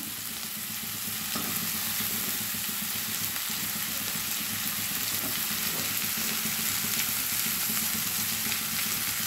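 Radish with mixed vegetables, pointed gourd and pumpkin, sizzling steadily in a pan as they are stirred, a continuous close hiss with soft scraping and no talk.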